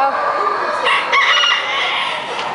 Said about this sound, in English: Chicken galore.